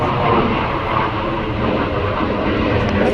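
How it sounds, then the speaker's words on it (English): A fully loaded fighter jet roars overhead in a loud, broad, continuous rumble that stays steady and powerful with no talk over it. "Hold on, that's a fighter jet?"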